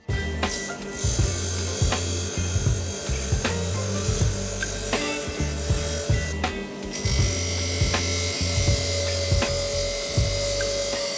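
Rust being scrubbed off a metal part by hand: steady, rhythmic rasping strokes, loud and close, with no talking.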